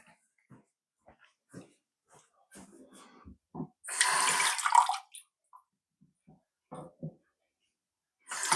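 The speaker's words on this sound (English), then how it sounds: "Just get some cold water again" Cold water runs from a kitchen tap in a short, hissing burst of about a second, set between scattered soft clinks and handling noises in a quiet room.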